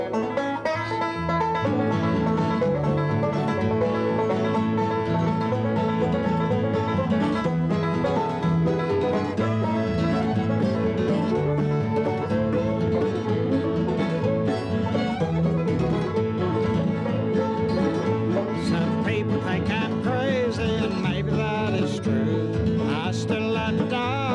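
A bluegrass band plays and sings a song on an old tape recording, with steady dense strummed and picked acoustic instruments under a vocal throughout, fairly loud and continuous.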